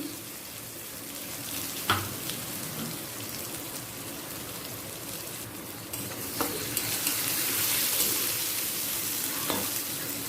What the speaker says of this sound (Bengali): একই সাথে দিয়ে দিলাম আদা বাটা হাফ চামচ আদা বাটা দিলাম ভালো করে মিশিয়ে নিচ্ছি